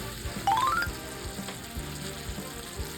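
Sliced pork belly simmers in a pan of dashi, soy sauce, sugar and chili, giving a steady close bubbling sizzle with soft stirring clinks and scrapes, and no talk.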